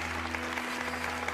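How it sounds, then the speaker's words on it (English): A crowd breaks into loud, appreciative applause in a visual novel game scene, dense continuous clapping with a steady low hum beneath, short and unbroken. "The crowd bursts into a loud, appreciative applause"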